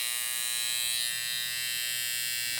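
Hair trimmer running with a steady, bright electric buzz, close to the mic and unbroken for a few seconds.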